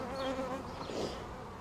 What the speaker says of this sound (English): Because we got a lot of bees festooning